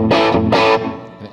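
Two loud, crunchy electric guitar chords ring through a cranked Fender Deluxe Reverb tube amp, the second sustaining briefly before fading.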